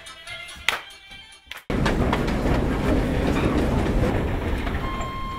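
A passenger train in Bucovina runs along its rails, a steady loud rumble with clickety-clack wheel rhythm and faint squeal, starting after a brief quieter stretch.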